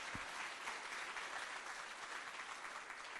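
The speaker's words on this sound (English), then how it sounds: "I think a special round of applause for you, Erin, because you are this year's winner of" Steady applause from an audience at a university fashion showcase fills the whole stretch, dense and even, with no talk over it.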